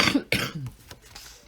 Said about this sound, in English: That ever nasty cough.